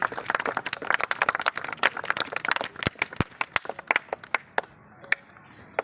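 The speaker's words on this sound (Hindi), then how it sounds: "ज़ोरदार तालियों के बीच में" Audience clapping at an honouring ceremony, dense and lively at first, then thinning out into scattered individual claps before fading.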